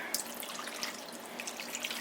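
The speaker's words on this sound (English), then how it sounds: "I'm going to take 1 can of water and pour it in here" Water from a can is poured into a slow cooker, a steady close splash and trickle with bright dripping over about two seconds and no voices.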